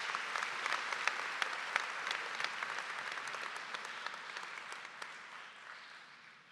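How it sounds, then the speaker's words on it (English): Graduation audience at the Tomball Star Academy class of 2025 ceremony gives a round of applause, a dense, steady clapping that tapers off gradually toward the end. "Give yourselves another round of applause."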